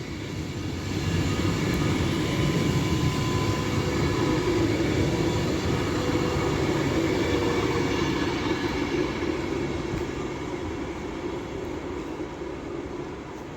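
Train 39138 City of London, arriving at Stafford from London Euston, gives a sustained close rumble and rolling roar that gradually eases toward the end, with no talking.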